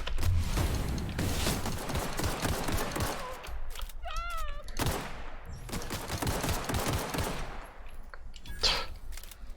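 Rapid gunfire from The Outer Worlds game, loud bursts of automatic shots in close succession during combat, with brief mechanical effects between volleys.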